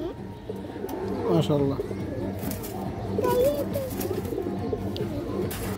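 Domestic pigeons, flying-line birds offered for sale, coo in a steady murmur close by while someone talks over them.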